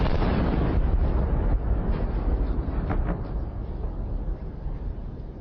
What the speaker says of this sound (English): The ammunition the vehicle was carrying triggered a powerful explosion.